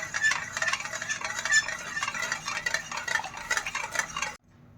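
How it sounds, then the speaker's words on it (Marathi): A spoon is stirred through thickening ragi millet ambil in a pot, giving repeated scraping and clinking strokes against the vessel. The strokes come close and steady for about four seconds, then stop abruptly into silence. "पण ती शिजेपर्यंत आपण हलवतच राहायचं आहे, नाहीतर खाली करपू शकते"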